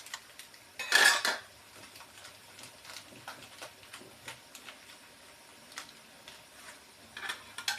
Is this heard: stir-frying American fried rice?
yes